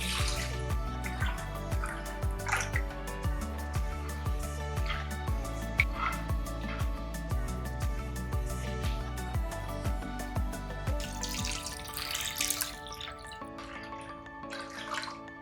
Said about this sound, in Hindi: साफ पानी आने तक इसे अच्छे से धो लेंगे।